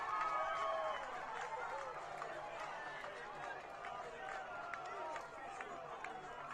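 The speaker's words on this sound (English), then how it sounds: "And the crowd love it." A football crowd roars after a goal at a MetroStars v Adelaide City match, a distant, fairly faint swell of cheering beneath a commentator's talk.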